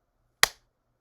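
One big, sharp hand clap rings out alone in a quiet room at a formal dinner, a single crisp transient that decays quickly with no talk around it.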